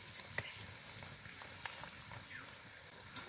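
Pea kachoris, three or four at a time, frying in hot oil, a faint, soft continuous sizzle with occasional small pops and crackles.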